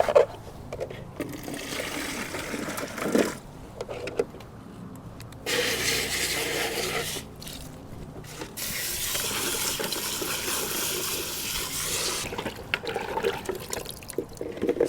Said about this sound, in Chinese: 还是用同样的方式给它冲洗干净。